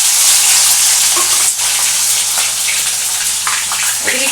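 Capsicum dropped into hot tempered oil in a pan for a masala eggplant curry, giving a loud close sizzle with a few clatters and stirring noises over a few seconds.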